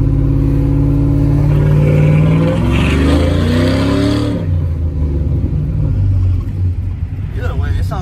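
A cammed 5.3 V8 truck with a new aftermarket exhaust revs loudly up close, its deep rumble rising in pitch and then dropping back to a lower burble.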